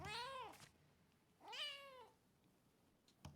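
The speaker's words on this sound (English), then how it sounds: "You wanna see cats? Look at the cat." A cat in the video game Rise of the Ronin meows twice, two drawn-out rising-then-falling calls about a second apart, clear and moderately loud over a quiet background, followed by a brief click.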